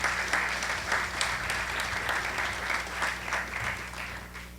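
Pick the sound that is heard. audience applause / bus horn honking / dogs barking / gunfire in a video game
audience applause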